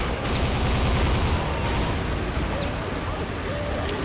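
A slow-fused grenade goes off in the Soldier of Fortune shooter, a loud, sustained, rumbling blast that fills the whole stretch with dense low roar and crackle, close and unbroken.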